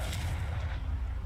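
A Confringo blast spell erupts in the Hogwarts Legacy video game, a dense booming rumble that stays loud and heavy for the whole moment, with no voices over it.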